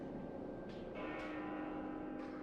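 A resonant bell tolls at Elysium atop the world tree in Xenoblade Chronicles 2, with several bright chimes struck in sequence whose long ringing tails overlap, moderately loud over a soft ambient backdrop.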